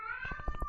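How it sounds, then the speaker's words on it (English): A pet cat meows loudly and briefly indoors, a close, drawn-out call set against a steady background hum. "that's my cat in the background"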